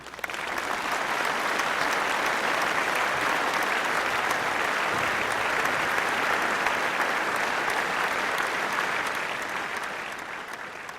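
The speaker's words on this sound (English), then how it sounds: "let's give a round of applause to Mr." Audience applause greets event planner Ray Leonard, a dense, loud burst of many hands clapping that holds steady for about ten seconds and then tapers off slightly at the end, with no talk over it.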